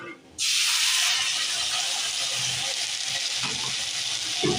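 Onion frying with masala in a pan, opening on a sudden loud sizzle that settles into a steady close hiss with faint stirring and no voices.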